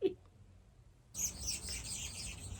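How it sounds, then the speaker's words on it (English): Baby birds in a nest on a front door wreath give a burst of thin, high chirping after a quiet start, close and fairly faint, continuing to the end. "a bird built a nest in this wreath. And there's baby birds in it."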